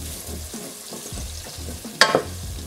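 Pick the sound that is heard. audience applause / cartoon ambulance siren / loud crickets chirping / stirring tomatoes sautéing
stirring tomatoes sautéing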